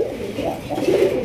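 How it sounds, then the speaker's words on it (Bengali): Large, high-quality Raj-Golla fancy pigeons coo in a low, throaty, rolling murmur close by, a brief steady burst that cuts off abruptly. "একদম বিগ সাইজের হাই কোয়ালিটি কবুতর"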